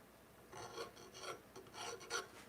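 A hand file drawn across metal to polish it, giving four slow, rhythmic rasping strokes, close but faint, with no talking.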